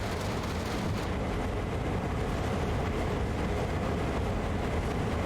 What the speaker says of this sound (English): Okay, my trains are reversing.